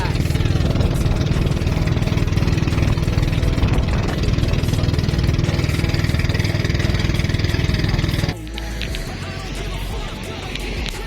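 A loud, steady motorboat engine drones close by at a beach, then drops in level and continues rumbling more quietly toward the end.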